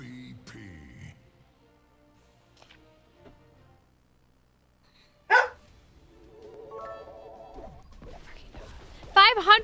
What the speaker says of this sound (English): this barking not nice dog